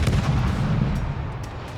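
Main guns of the IJN Shimakaze destroyer fire salvos in World of Warships, a loud, sustained booming rumble with no clear gaps between shots.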